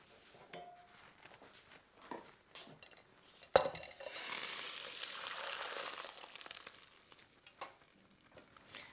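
Boiled Tilda rice being drained from a pan, with soft clinks and pan handling, then a sudden clank followed by a few seconds of rushing, hissing water before quieter rattles return.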